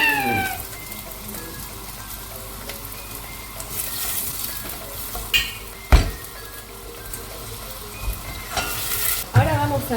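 Onion sizzles steadily in olive oil in an uncovered pan, with occasional clacks of a spatula stirring and scraping; soft speech can be heard faintly in the background.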